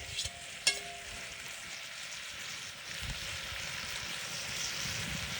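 Pork sizzling as it sears in a Dutch oven over a campfire, a steady close frying crackle with one sharp metallic clink near the start.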